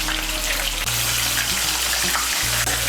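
Potato pieces seasoned with salt and turmeric frying in hot oil, a loud, dense, continuous hissing sizzle that stays close and unbroken, with a couple of faint knocks.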